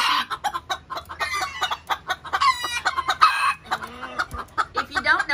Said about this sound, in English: There's about four or five roosters in here by themselves.